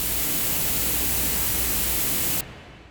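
A broadband noise sample, unprocessed and before any Saturn2 treatment, plays as a loud, dense, static hiss that holds steady, then cuts its high end sharply near the end.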